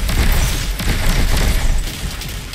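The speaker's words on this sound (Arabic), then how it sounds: "اوكي في رصاص هنا" Gunfire in the video game Destiny 2 during The Arrival mission, a dense, loud burst of booming shots and crackling blasts that continues throughout before easing slightly at the end.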